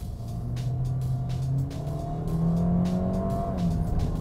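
A 2017 Toyota Corolla or 2016 Hyundai Elantra petrol automatic accelerating in sport mode, its engine note climbing steadily with rising harmonics as revs hold longer before shifts, heard from inside under steady road rumble.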